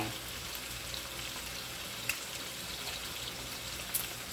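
Beef short ribs fry in a pan over medium-high heat, giving a steady close sizzle with faint crackles and a couple of brief sharp pops, heard alone without talk.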